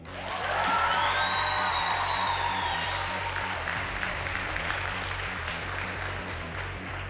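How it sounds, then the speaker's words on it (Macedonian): Studio audience on a Macedonian Idol gala night bursts into sustained applause with a few whoops and cheers, loud and steady at first and easing slightly toward the end, with music playing underneath. "Еден аплауз за Јана."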